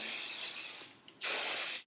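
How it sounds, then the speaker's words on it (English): Two close hissing bursts from an aerosol hairspray can sprayed onto hair, separated by a brief pause, with no talking. "So I'm just pulling the hair down a bit just to spray the crap out of it."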